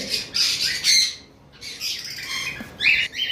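Exotic pet birds in a shop, including a lutino red-eye, give loud, harsh squawks in several close bursts with short pauses between.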